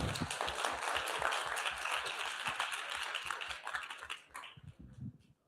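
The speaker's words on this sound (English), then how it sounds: "a round of applause for all the presenters." Audience applause at a scientific symposium after a set of presentations, dense steady clapping that thins into a few scattered claps and stops near the end.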